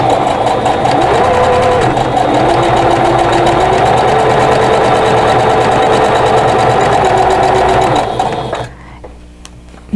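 A sewing machine stitches a quilt block with cotton thread in both bobbin and spool at a 2.5 stitch length, giving a loud, fast, even mechanical whirr for about eight seconds before stopping abruptly.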